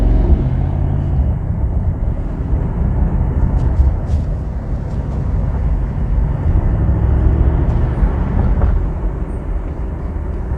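2022 Mercedes-AMG SL 63 with the exhaust button activated in comfort mode, a steady, loud broadband roar while driving at night, without distinct pops or bangs.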